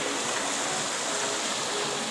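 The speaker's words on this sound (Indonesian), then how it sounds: "Oke, ini ya sungainya" A river in Indonesia flowing steadily, a continuous broadband rush of water that stays even and close throughout with no voices.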